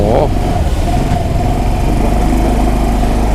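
A Honda Dax125 motorcycle engine drones steadily and loudly at close range for the whole stretch, with no break in the running note and no clear voices over it.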